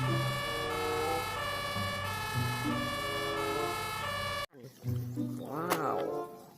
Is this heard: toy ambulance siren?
yes